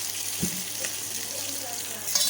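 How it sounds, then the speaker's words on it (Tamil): Chopped onions sauté in a pan for a dried fish curry, giving a soft, steady sizzle with an occasional light stir, close but fairly quiet. "இந்த மாதிரியே வெங்காயத்தை வணக்கி வச்சுக்கலாம்"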